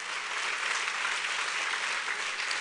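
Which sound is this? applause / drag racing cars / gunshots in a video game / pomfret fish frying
applause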